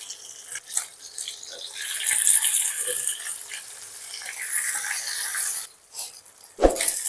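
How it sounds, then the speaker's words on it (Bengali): Pabda fish sizzles in hot oil with a steady crackling hiss, close up, interrupted by a few clatters and knocks of a utensil. "এরপর এতে মাছগুলোকে ভেজে নেব।"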